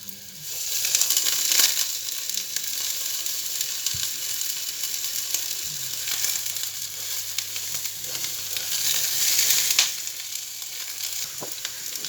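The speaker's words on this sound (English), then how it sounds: "Hear that sizzle when they go in." King oyster mushroom pieces sizzle and fry in hot oil in a frying pan, a steady bright crackling hiss that swells and eases, with occasional stirring clinks and no talking.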